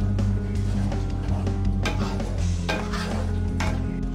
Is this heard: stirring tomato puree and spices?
yes